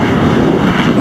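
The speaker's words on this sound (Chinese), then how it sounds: "直升机降落无需关掉发动机，就可以直接加油和挂弹。" A Viper attack helicopter idles with its engine running on a makeshift landing pad outside a town during a Marine Corps urban combat exercise. It makes a loud, close, continuous roar with no talking.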